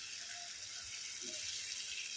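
Water is poured into a pan of tomato and rajma curry, a soft, steady splashing hiss with a few small gurgles. It is fairly quiet, brief and without speech.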